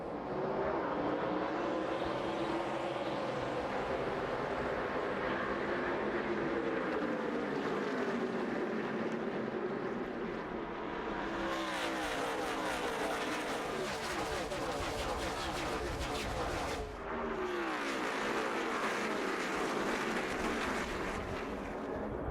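NASCAR Nationwide Series stock cars at Iowa accelerating off turn 4 on a green-flag restart, a dense roaring engine drone that swells into a louder rushing pass, with a brief dip near the end.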